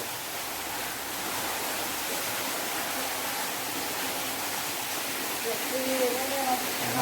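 Waterfall pouring inside a cave at a Thai temple site, a steady broadband rush of falling water filling the space, with faint tonal sounds surfacing near the end.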